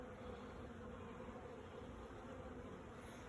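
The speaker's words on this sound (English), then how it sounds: "Got a lot of young bees on here" Young honey bees crowd the frames of a newly started colony, their wings making a dense, steady buzzing hum that runs unbroken and fairly close throughout, with no voices.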